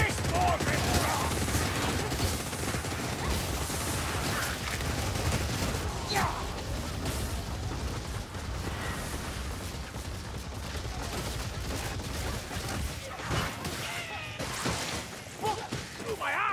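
Bursts of gunfire and smashing impacts in Warhammer Vermintide, dense and loud, with scattered crashes and occasional voices mixed into the fight.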